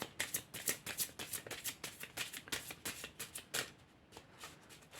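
Tarot cards flicked and slapped down one after another into piles in a rapid, crisp rhythm of close papery snaps that slows and thins toward the end.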